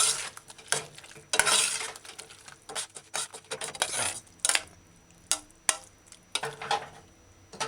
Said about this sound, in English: Stir it in a few times gently.